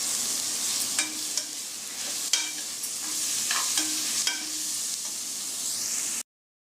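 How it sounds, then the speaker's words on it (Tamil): Mint and coriander leaves sauté in a pan for vegetable pulao, a continuous sizzle broken by repeated scraping stirs of a spoon, ending abruptly. "புதினா கொத்தமல்லி நல்லா வதக்கி விட்டுருங்க"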